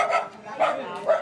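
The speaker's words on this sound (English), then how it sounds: "Yet 5-month-old puppy Pete is already restless at the slightest unfamiliar sound" A five-month-old puppy gives three short, yelping barks about half a second apart, close and moderately loud, with a whimpering edge, during a New Year holiday period of fireworks.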